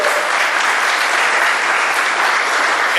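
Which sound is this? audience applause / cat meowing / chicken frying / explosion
audience applause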